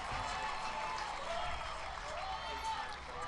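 Crowd at a high school football game between Auburn and Williamsville cheering and applauding after a false start penalty, a steady roar of voices filling the stadium with continuous broadband noise, with an announcer's voice over it.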